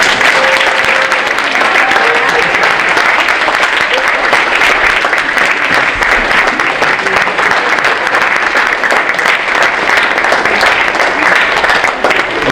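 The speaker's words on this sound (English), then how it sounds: "I'd like you to give a round of applause to your parents." Parents at a 2018 senior awards night receive a long round of applause from the students. The clapping stays sustained and even throughout, with a faint voice heard briefly under it.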